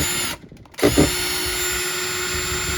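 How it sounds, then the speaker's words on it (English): A power drill running in reverse backs out a screen door handle screw, a loud steady whine broken by a short stutter and then resuming at full speed. "Just put your drill in reverse."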